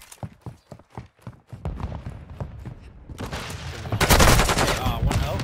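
Rapid bursts of gunfire in a video game, a rhythmic string of sharp shots that gives way to dense, loud, continuous shooting and action noise, with players' voices faintly mixed in.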